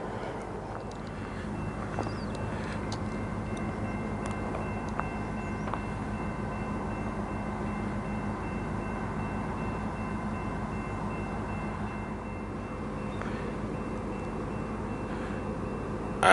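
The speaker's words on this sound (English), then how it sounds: "get closer to get a better view of the train when it starts moving" A low, continuous rumble of a South Shore freight train rolling along an old siding in Gary, Indiana, steady and somewhat distant, with faint wind noise throughout.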